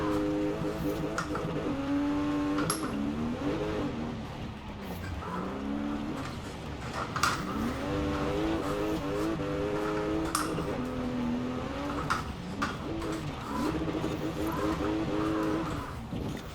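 A 2019 Porsche Macan rally build races on dirt in Forza Horizon 4, its engine droning steadily with shifting pitch as it revs through gears, a continuous loud game-engine roar running the whole stretch.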